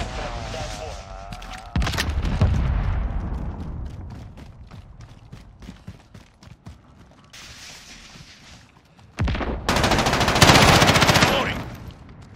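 Call of Duty Modern Warfare gunfire rattles in loud automatic bursts and single cracks, with heavy booms around two and ten seconds and scattered shots between, while a player talks over the action.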